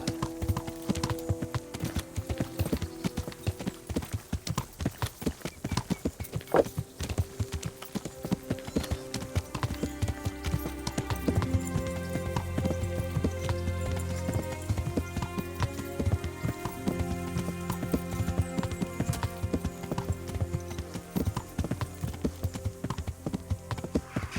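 A horse gallops in Kingdom Come: Deliverance, hooves drumming in a fast, steady clip-clop for the whole stretch while layered game music plays underneath at moderate loudness.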